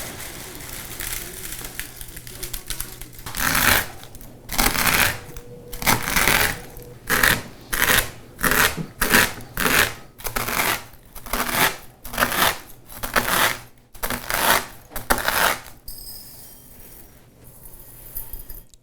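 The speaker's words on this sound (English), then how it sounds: "Then use a knife to chop them in whatever size you like." A knife chops dried homemade sprinkles on a cutting board, giving a rapid run of sharp, crisp thuds and clicks in steady bursts, fairly loud and close, and then it stops.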